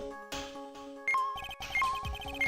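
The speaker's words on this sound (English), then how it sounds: "That's the sound of the metal detector's signal bouncing off something metallic." Synthetic electronic beeps and tonal pings in short bursts, some rising in pitch, over a faint background hum: a metal detector signal in Phoenix Wright: Ace Attorney - Trials and Tribulations.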